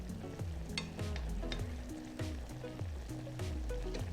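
Seitan teriyaki simmers in veggie broth in a pan, a steady close sizzle and bubbling with short clicks and knocks scattered throughout.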